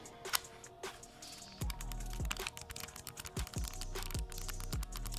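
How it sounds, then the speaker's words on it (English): Crisp clicking of buttons on a PS5 Pro controller, a series of sharp, close taps at an uneven rhythm, some light and some firmer, over a faint background hum. "Man, I just love that mouse click sound"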